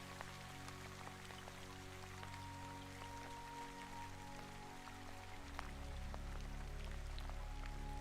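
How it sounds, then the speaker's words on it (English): Soft rain patters against window glass, a faint, even spread of tiny droplet taps under a low steady hum, calm and continuous with no voices. "listen to the last soft rain against the glass"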